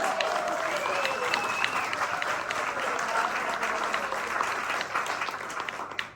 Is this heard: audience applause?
yes